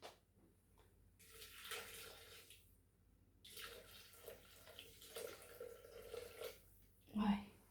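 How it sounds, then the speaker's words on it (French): Hot vegetable broth pours into a Thermomix bowl for a halal choucroute, a soft liquid rush swelling and fading across several seconds, with a sharper splash near the end; a voice talks intermittently around it. "Donc je vais mettre le bouillon."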